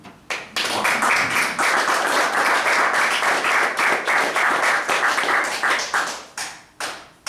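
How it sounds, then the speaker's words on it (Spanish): Church congregation applause in a Spanish-language service, a lively burst of close clapping that swells quickly, holds steady, then breaks into a few isolated claps as it dies away. "dale un aplauso, Señor"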